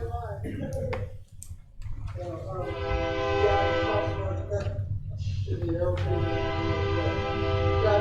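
A train passes by during a city council meeting in Globe, its horn sounding in long, loud sustained blasts with a short break, over rumbling wheels and some brief talk.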